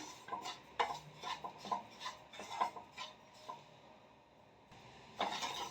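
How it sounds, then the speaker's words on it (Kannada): Semolina (rava) dry-roasting in a hot pan for vegetable uppittu, stirred with a metal spoon that scrapes and clinks in a steady rhythm of soft gritty strokes, fading to quiet before one final scrape. "ಬಿಸಿಯಾಗಿದೆ ರವೆ ಹಾಕೋಣ ಚೆನ್ನಾಗಿ ಫ್ರೈ ಮಾಡ್ಕೊಬೇಕು"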